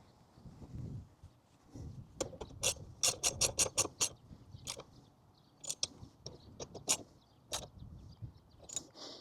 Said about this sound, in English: Now I'm going to just tighten it all down.